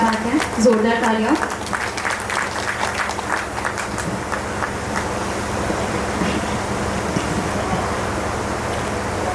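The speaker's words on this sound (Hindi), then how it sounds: "क्या बात है, जोरदार तालियां।" Applause rises from the audience at a Vishwakarma Puja celebration, loud clapping that swells as a voice speaks over it briefly at the start, then settles into a steady, noisy patter.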